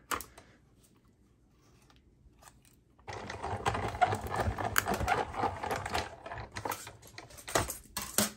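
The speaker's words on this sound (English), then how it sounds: "And we will run this one through with this die." Die cut and emboss machine feeding a card layer through, a steady dense rattling and clicking grind that starts abruptly partway in and continues loud and close after a quiet opening.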